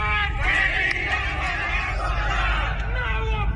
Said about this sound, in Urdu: یہ مانسہرہ میں جو لگے ہیں نعرے